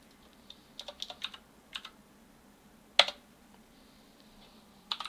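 Sparse keystrokes on a computer keyboard as a password is entered at a terminal: a few quick clicks, a pause, one sharp louder key strike, then a short final burst, close and fairly quiet with no talking.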